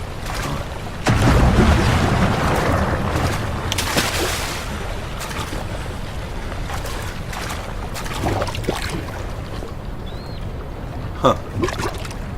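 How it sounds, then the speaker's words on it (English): Water in the video game Amnesia gurgles and sloshes in a dim ambient space, a continuous low churning with occasional splashes and knocks, moderately close, with a voice speaking over parts of it. "There's like gurgling noises"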